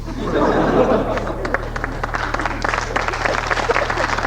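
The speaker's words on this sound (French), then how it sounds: "merci d'applaudir" An audience applauds, the scattered claps carrying over murmured chatter and a little laughter, moderately loud at first and then thinning into lighter, uneven clapping over a few seconds.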